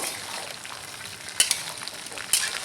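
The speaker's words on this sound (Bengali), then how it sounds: "আমগুলো একটু ভেজে নেবো" Mango pieces for pickle fry in hot oil, a soft continuous sizzle with a couple of brief sharper spatters or stirring clicks, fairly quiet and close.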